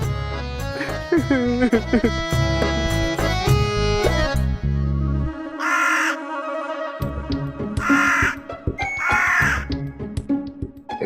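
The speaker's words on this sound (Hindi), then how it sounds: "कौवे क्यों काऊ काऊ कर रहे हैं?" Crows caw in several harsh bursts over dramatic background music and voices in a Hindi fantasy television serial, the calls rising loud and close between stretches of score.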